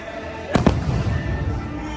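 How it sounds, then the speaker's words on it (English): Fireworks burst in two quick loud cracks close together near the middle, then a rumbling crowd-like wash of sound continues underneath, with background voices faintly present. "Sometimes you might just walk around and watch the fireworks."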